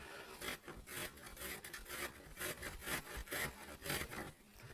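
Thin-skinned potatoes with the skin left on are rubbed over a hand grater in a quick, rhythmic series of rasping scrapes, close and fairly quiet, with no talking.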